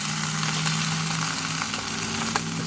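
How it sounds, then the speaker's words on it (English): Steady, dense crackling and popping of turkey bacon sizzling in a hot pan inside a vehicle, continuous and fairly close, with no talking. "So the bacon is cooking up very nicely. Listen to that sizzle."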